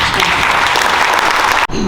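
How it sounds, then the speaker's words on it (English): At a junior police academy ceremony, an audience claps loudly and continuously in a thick, close wash of applause that breaks off abruptly near the end. "So please, another round of applause."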